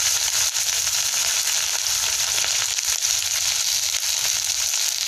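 Diced onion sizzles in hot oil alongside fried garlic while chilli chicken is being cooked. A steady, close, crackling fry hiss runs continuously with no voices.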